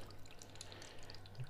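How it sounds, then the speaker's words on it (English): Water splashes steadily into the clean-water caddy of a Karcher FC5 hard floor cleaner, a close continuous pouring hiss with a low hum underneath. "it's really also hard to see when you're filling up the water like this"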